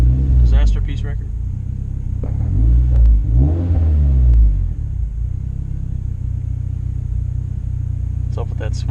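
A turbocharged Honda CR-V with all-wheel drive launches from a stop, its engine rising into a low, rumbling rev that swells and then settles into a steady drone, with people talking briefly over it inside the car.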